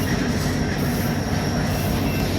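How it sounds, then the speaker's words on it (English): A freight train rolls past outdoors in Green Bay on a sunny day near a quarry: a loud, continuous rumble of wheels on rails with steady rattling and faint metallic squeal, close and unbroken throughout. "Watching a train in Green Bay on a nice sunny day"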